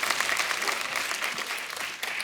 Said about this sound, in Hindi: एक बार बादशाह और सोनाक्षी के लिए जोरदार तालियां हो जाए।